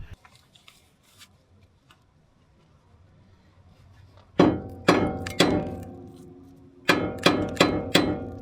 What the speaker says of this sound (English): I'm just going to be smacking that straight back, trying to avoid damaging things